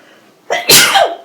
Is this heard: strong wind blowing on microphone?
no